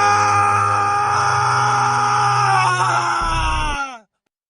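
A farmer's long, pained scream in a horror cartoon, loud and sustained for about four seconds over a low droning tone before cutting off abruptly.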